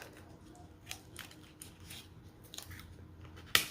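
Scissors make a single crisp snip near the end, close and sharp, after a few seconds of faint rustling and handling noise.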